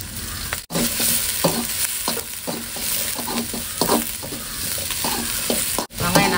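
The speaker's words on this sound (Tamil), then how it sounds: "வெங்காயம் நல்லா வதங்கட்டும்." Sambar onions sautéing in a pan, a steady broadband sizzle with regular scraping stir strokes roughly every half second, close and fairly loud throughout, no voices.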